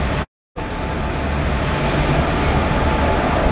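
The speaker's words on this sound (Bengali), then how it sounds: "আমাদের 18409 আমাদের জগন্নাথ এক্সপ্রেস ঢুকে গেল" The 18409 Sri Jagannath Express, a train of ICF coaches, rolls into a station platform with a loud, steady rumble close by after a brief silent gap, continuing unbroken to the end.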